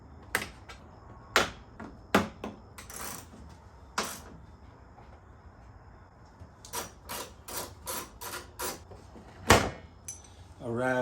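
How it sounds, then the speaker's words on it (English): Plastic trim rivets and a bar come out of a 2014 Chevy Silverado with a trim tool and a 10mm socket. Sharp, close snaps and clicks come in irregular clusters over a quiet background. "So you're gonna need a plastic trim tool and a 10mm socket to remove this bar."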